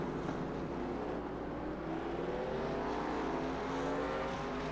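A race car runs on the Mid-Ohio track during a 2020 National Series race, giving a steady, droning engine note that slowly climbs in pitch, heard at a distance with no voices.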